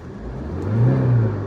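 A 2023 Tata Nexon diesel engine revs up close, its pitch rising to a loud peak midway before easing back down, no voices present.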